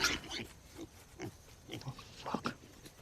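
A pig grunts and snorts in short, irregular bursts, close and moderately loud, with brief gaps between the rough, nasal calls.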